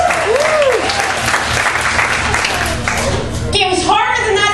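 A stand-up comedy crowd in New York City applauds in a thick, close burst while the comedian's voice carries over the clapping.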